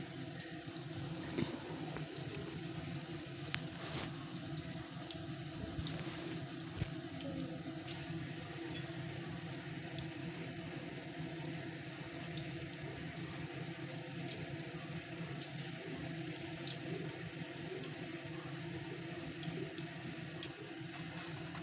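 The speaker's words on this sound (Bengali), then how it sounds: "এবার আর বাকি যেগুলো আছে সেগুলোও এক এক করে ওই একই পদ্ধতিতে আমি ভেজে নেব পাকোড়াগুলো" Cabbage pakoras deep-frying in hot oil give a steady, even bubbling sizzle that holds a constant level without a break.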